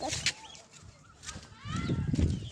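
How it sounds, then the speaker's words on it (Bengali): Chickens calling outdoors beside a field and boundary wall, with a few short clucks and squawks over low rumbling background noise that grows louder toward the end. "মুরগি"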